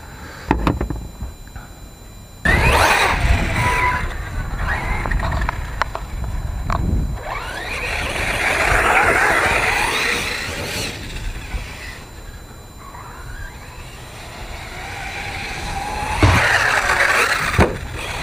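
Talion RC trucks driving and launching off new ramps, with bursts of whining motor and tyre scrabble, sharp landing thumps and steady buzzing runs between jumps, close and fairly loud.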